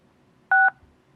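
A single short, clean telephone keypad tone beeps once from a caller's phone during a call-in public meeting, loud and isolated over a near-silent line.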